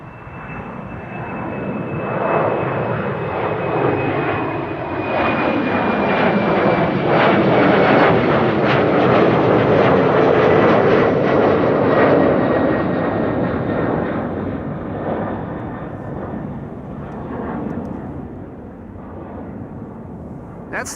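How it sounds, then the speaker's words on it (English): Cathay Pacific Airbus A350-1000 taking off from runway 18 left at Amsterdam Schiphol Airport, a sustained jet roar swelling to a peak mid-way and slowly fading, heard from the side at a distance. "Cathay Pacific. A350-1000, flight 270 to Hong Kong, there it is. Taking off via 18 left."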